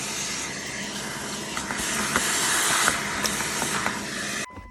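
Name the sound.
shop vac vacuuming in a Mitsubishi Montero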